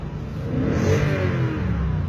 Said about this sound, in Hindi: फुल रेस ले रही है चार हजार पांच हजार छह हजार आरपीएम तक इजीली गाड़ी जा रही है